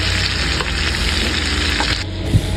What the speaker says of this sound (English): I just wanted to get both sides a little sauteed